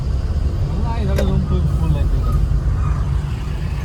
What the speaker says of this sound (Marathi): एक्सप्रेसला एवढी ट्रॅफिक आहे